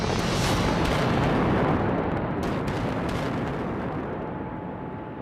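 A distant, heavy boom rolls out from a blast at an iron ore mine, a dense rumbling roar that holds for several seconds and then slowly fades.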